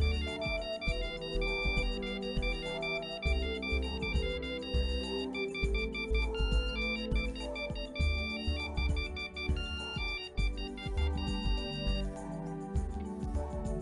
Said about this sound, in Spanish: vamos a darnos cuenta que tenemos distintos tonos de alarma.